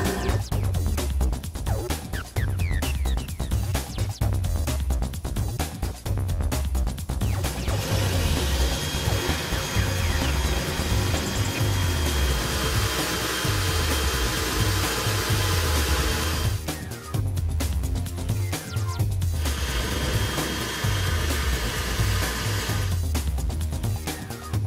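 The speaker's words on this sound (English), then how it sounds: "the ROTHENBERGER self-cooling tile drill set is designed to help you work faster" A ROTHENBERGER self-cooling diamond tile drill bores into hard porcelain, a loud continuous whining drone with a pulsing low hum, the pitch and texture shifting in several stretches as the bit cuts, with no talking.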